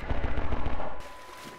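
Enemy gunfire in Half-Life 2 rattles in a rapid, steady automatic burst of close, loud shots, then cuts off abruptly.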